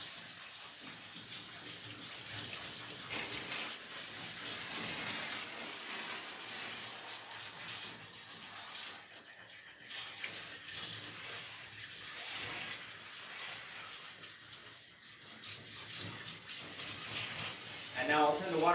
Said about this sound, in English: And now I'll turn the water pressure back up and rinse off the rest of his body.